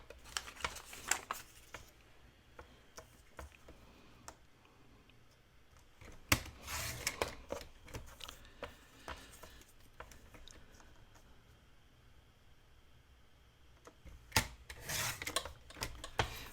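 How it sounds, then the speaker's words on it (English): Paper being cut on a Fiskars rotary trimmer, its blade giving soft, close rasping and rubbing strokes, with louder bursts of sliding cuts near the middle and again toward the end, no voices. "I'm going to use my cutter to trim these."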